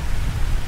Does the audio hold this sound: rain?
yes